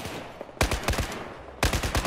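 Video game gunfire comes in two close, loud bursts of rapid automatic shots, separated by about a second of quieter background.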